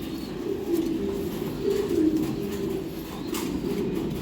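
Young racing pigeons coo in a loft, a steady run of low, rolling coos close by and moderately loud, with no talking over them.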